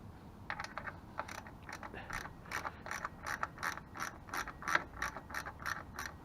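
A quarter-inch drive ratchet turning on a motorcycle brake light switch fitting, giving a run of about a dozen crisp, evenly spaced clicks close up, with no talking.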